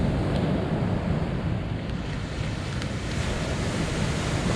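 Sea waves on a beach at Silecroft during sea fishing, a steady, loud roar of surf mixed with wind buffeting the microphone, continuous for the whole stretch with no voices.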